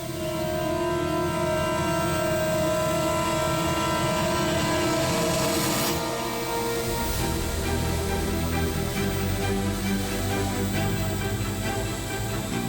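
A drone carrying a pouch of diamonds flies off in a crime-drama scene, giving a loud, steady, unbroken mechanical whir with no speech.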